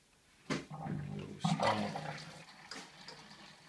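Hot water gushes into a brewing mash tun with a false bottom, surging in a couple of loud bursts before settling into a softer, steady trickle.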